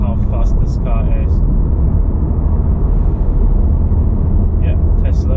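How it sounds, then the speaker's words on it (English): A 2022 G80 BMW M3 Competition xDrive pulls away with a loud, deep engine and road rumble heard from inside the cabin, a steady roar with someone talking over it. "you guys notice how quick this car is accelerating"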